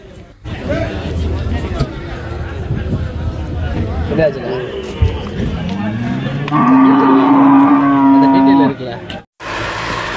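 Cattle at a busy Devakottai livestock market in Tamil Nadu low loudly and repeatedly, one long sustained moo rising clear near the end, over steady crowd hubbub and talking.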